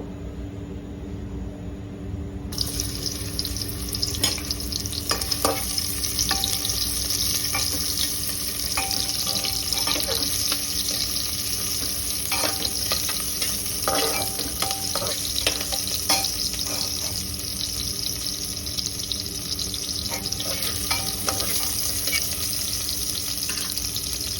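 Onion sizzles in hot oil inside a pressure cooker while khichuri cooking begins, a steady close hiss that starts suddenly and continues evenly throughout, with no one speaking.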